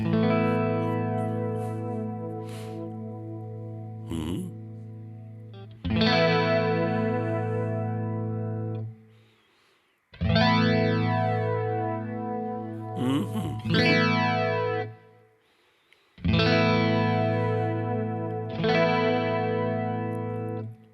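An electric guitar runs through a modulation effect, comparing an Electric Mistress pedal with Kemper mod effects: sustained distorted chords swell and sweep with a jet-like flanging shimmer, separated by short pauses and occasional single notes.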